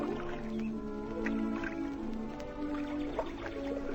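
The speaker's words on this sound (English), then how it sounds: "with the birds twittering and the water lapping" Water lapping gently at the grassy bank of a lake on a warm sunny day, soft irregular drips and splashes close by under a steady low background hum.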